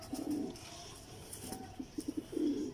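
A pair of teddy pigeons coo nearby in soft, throaty bursts: one at the start, another mid-way, then a quick run of short coos and a longer rolling coo at the end.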